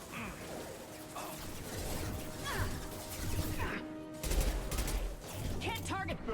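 Rapid bursts of gunfire rake toward the player in the video game Legendary, a busy clatter of shots and crashing impacts layered with music and game effects, with someone talking over parts of it.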